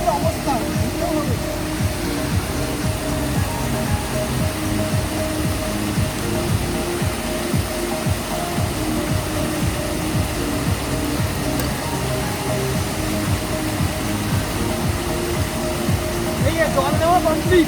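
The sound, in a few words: waterfall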